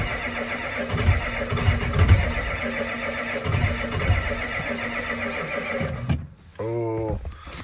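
A 6.9L IDI diesel engine cranks repeatedly on a cold start with a rhythmic, labored starter chug. The cranking stops abruptly, then a high whining tone follows.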